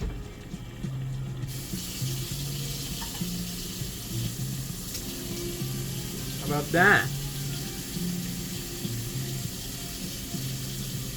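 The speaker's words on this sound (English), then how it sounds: "That's a lot of water at once." Water runs steadily from a tap at a low level throughout, with a brief splash midway and a short spoken remark.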